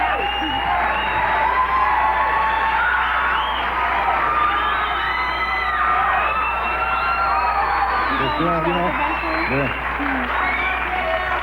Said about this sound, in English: They're still cheering the monologue